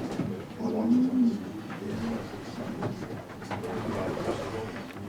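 Racing pigeons, distance widowed cocks, coo inside a garden loft section, with soft repeated low coos over a steady background rustle and a faint voice underneath.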